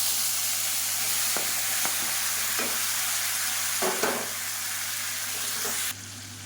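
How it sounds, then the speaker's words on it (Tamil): Chopped tomatoes sizzle and fry with garlic in a pan, a steady hiss broken by a few soft stirring clatters, close up with no talking. "இப்போ மீடியம் சைஸாக ஒரு நாலு தக்காளி கட் பண்ணதை சேர்த்துக்கலாம்"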